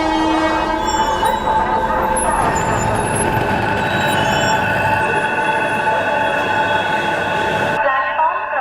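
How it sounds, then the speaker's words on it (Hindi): A fast train rushing past a railway station platform, a loud continuous roar of wheels and carriages with a horn-like tone, steady throughout before cutting off abruptly near the end. "एक जलद गाडी जाणार आहे."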